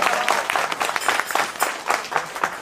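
Short burst of audience clapping at a devotional satsang gathering celebrating Karshan Bapa's birthday, lively and uneven with many hands striking at once, fairly close and loud.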